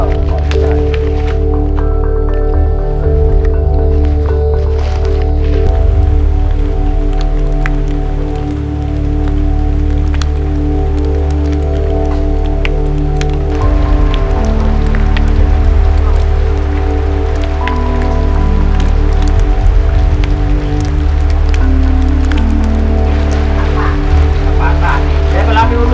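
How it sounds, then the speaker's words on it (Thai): Steady rain falls on the Hala-Bala rainforest, a dense continuous patter on leaves and ground that stays loud throughout with no pauses. "ฝนกำลังตก"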